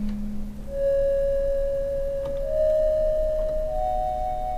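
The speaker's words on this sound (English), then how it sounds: "trying to make it sound more like an actual sine wave instead of a triangle wave" A pure, smooth electronic tone from a Korg Minilogue synthesizer, shaped from a triangle wave toward a sine wave, holds steady, shifting pitch upward in a few small steps, with a faint hiss beneath.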